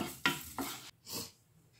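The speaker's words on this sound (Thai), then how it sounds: "ล้างมือเสร็จเรียบร้อยแล้วเราก็มาคั่วต่อสักหน่อยนึงค่ะ" Food being dry-roasted and stirred in a pan in a home kitchen, giving three short scraping, clattering strokes of utensil against cookware, close and fairly quiet, with no talk.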